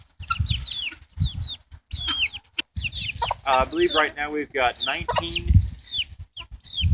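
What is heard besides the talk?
chickens, hens and rooster clucking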